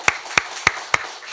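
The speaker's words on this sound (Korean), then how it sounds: "우리 다시 한번 하나님께 영광의 박수 올려드리겠습니다" Four sharp, evenly spaced claps ring out in a church congregation during an Easter Sunday service, each crisp and alone, with no voices.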